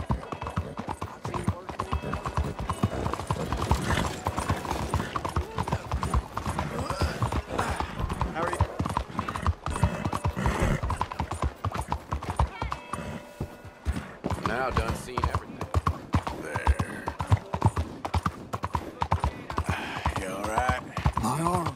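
Horse hooves clip-clopping steadily in Red Dead Redemption 2 on PS4 during a wagon trip, a continuous rhythmic trot close by with game music and voices over it.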